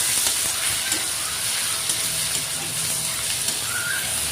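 Chopped tomatoes hit fried onions and chilli in a pan for a pigeon meat bhuna, producing a constant moderate sizzle and crackle with faint stirring and no talk.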